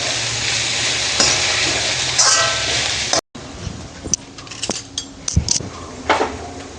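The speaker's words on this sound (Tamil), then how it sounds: "நல்லா ஃப்ரை ஆகட்டும். ஹை ஃப்ளேம்லேயே இருக்கட்டும்." Vegetables for veg fried rice sizzle steadily in a hot pan over a high flame, with a spatula repeatedly stirring and scraping and occasional metallic clinks of utensil against the pan. The sound is close and continuous with no talking.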